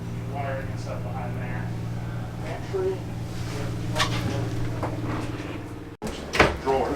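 Drawers in a camper bathroom slide and knock shut in a few short clunks and rattles, close by, under a steady background hum and a speaking voice.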